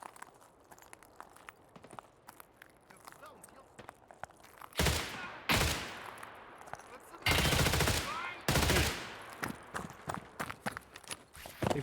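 Grenade blasts and gunfire in Escape From Tarkov: several loud broadband bursts around the middle, with the biggest two close together, then sharper scattered shots and movement noise, and quieter faint sounds before.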